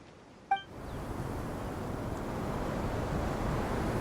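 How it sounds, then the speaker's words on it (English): Strong sandstorm wind in the Genshin Impact video game, starting after a brief bright chime and building into a steady, hissing roar that fills the scene with no voices. "The wind's so strong. Is this a sandstorm?"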